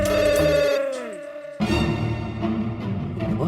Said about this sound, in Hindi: सर जेठालाल का फोन आ रहा है।